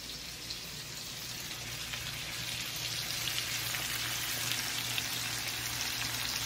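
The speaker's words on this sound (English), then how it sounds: "Now that the liver is in the pan, sauteing" Chicken liver sautéing in a hot pan, giving a continuous, quiet, even sizzle and crackle that holds steady throughout with no talking.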